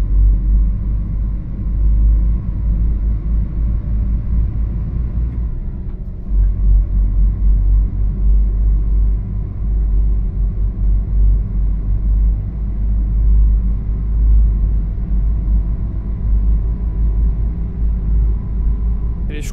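A bus engine drones in a low, steady rumble in a driving game mod featuring a G7 bus, loud and continuous with a brief dip midway, alone with no talking.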